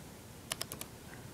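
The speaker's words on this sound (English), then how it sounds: "First, you're going to type in" Typing on a computer keyboard: four quick, crisp key clicks in a short burst, faint and close, with a quiet background and no talking.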